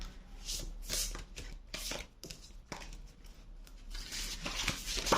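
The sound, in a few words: shuffling tarot cards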